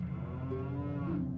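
Cows in The Legend of Zelda Majora's Mask 3D give a long, drawn-out moo with a steady tone and rising pitch toward the end, alone with no talk.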